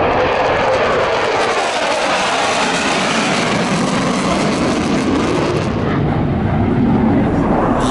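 A loud, roaring jet aircraft passes low overhead, its broad rumble filling the air continuously and shifting slightly as it moves.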